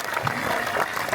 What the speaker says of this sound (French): Je pense qu'on peut les applaudir encore une fois.